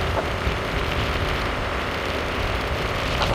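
Steady rain pours down around a parked car at a Thai roadside, a dense, even hiss of drops falling on surfaces throughout with no pauses.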